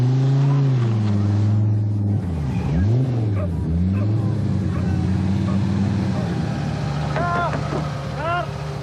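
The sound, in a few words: Opel Ascona 400 rally car approaching on stage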